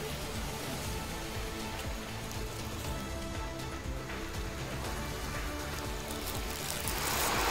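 The Grajaú river runs high after heavy rains, flooding over an embankment near a bridge, in a continuous broad rush of water. It swells slightly louder at the end, with no voices over it.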